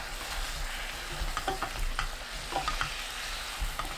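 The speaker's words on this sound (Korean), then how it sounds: "1분 후 골고루 섞어줍니다." Spoon stirring braised Korean potatoes and shiitake mushrooms in a pan, with scattered scraping strokes and soft clinks over a low, steady sizzle, close and moderately quiet, with no voices.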